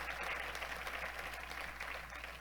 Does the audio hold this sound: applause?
yes